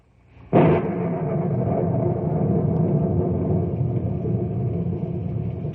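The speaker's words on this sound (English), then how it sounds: "Gigantic thunderheads are passing over the Knotty Pine country, and the monsters lash out with angry streaks of lightning." A sudden crack of thunder breaks into a long, heavy rumble that rolls on and slowly fades.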